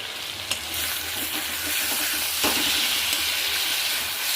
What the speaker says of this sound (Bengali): মশলাটা আমি সুন্দরভাবে কষিয়ে নেব।